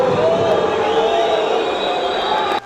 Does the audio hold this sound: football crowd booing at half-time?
yes